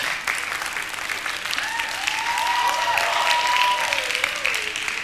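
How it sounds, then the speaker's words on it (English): Audience applause fills a hall, a dense steady wash of clapping that builds and holds, with a brief voice or whistle-like tone rising through the middle. "you don't know what you're applauding for yet"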